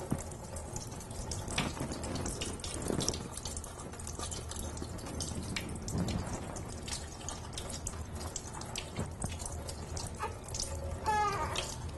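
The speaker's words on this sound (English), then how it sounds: "And then you're rinsing that soap off." Water pours steadily and splashes while soap is rinsed off a baby during a bath, a continuous close trickle with small irregular splashes and a brief squeak near the end.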